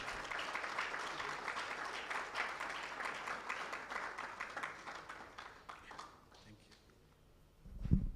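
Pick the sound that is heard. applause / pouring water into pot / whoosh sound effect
applause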